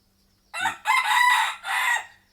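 A rooster crows once, loud and close: a short rising start, then a long drawn-out call that breaks and trails off. No one speaks.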